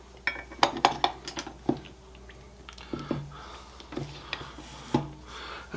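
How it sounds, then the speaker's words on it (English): A utensil clinks and scrapes against a bowl while zucchini cake batter is stirred, giving irregular clatters and taps at close range with quiet pauses, and no talking. "we're going to mix this all together here"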